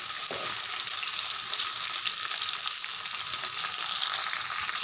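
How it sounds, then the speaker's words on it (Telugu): Green chillies fry in hot oil in a pan for tomato pachadi, a dense, continuous sizzle with occasional stirring scrapes. "ఇలా కలుపుతూ ఫ్రై చేసుకోవాలండి పచ్చిమిరపకాయలు"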